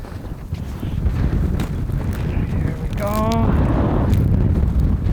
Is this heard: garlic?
no